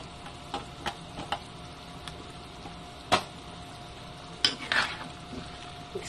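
Chayote being stirred into pork and chicken tinola, a few soft scraping clicks and light taps from a spoon against the pot over a faint simmer, quiet and sparse.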